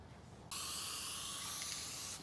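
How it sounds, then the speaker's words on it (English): Spray can of primer hissing onto a caravan part in one sustained, close burst that starts abruptly after a brief quiet moment, with no talk. "So I'm gonna throw some primer on it now"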